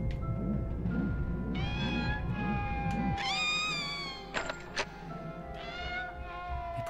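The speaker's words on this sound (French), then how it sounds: "Mais pourquoi vous miaulez? C'est insupportable!" Cats meow repeatedly in the Harry Potter 2 PS1 video game, several loud drawn-out yowls overlapping one another over a rumbling low game background.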